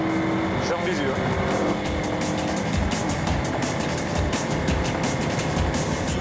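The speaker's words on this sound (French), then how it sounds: "Pour le rattraper, Eric monte à plus de 240 km/h." A police car speeds at over 240 km/h on a highway, with a steady loud engine and wind roar, tyre noise throughout and voices talking over it.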